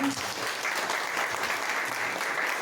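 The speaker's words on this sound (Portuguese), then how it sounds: "Aplaude o Senhor Jesus." A church congregation applauds at a first-anniversary service, with continuous, lively clapping filling the room and faint voices mixed beneath it.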